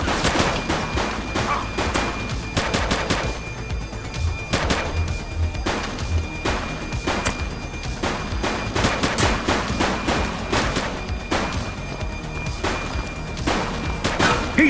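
Sustained gunfire from a police action game, The Precinct, as rapid repeated shots and machine-gun bursts crack loudly and continuously throughout, with heavy booms mixed in and no clear talking.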